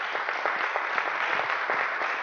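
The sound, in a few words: audience applauding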